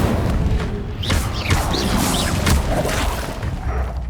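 The Incendio fire spell in Hogwarts Legacy bursts with a booming whoosh of flame amid combat impacts and crashes, loud and layered over a rumbling background.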